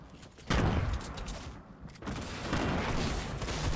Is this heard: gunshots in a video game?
yes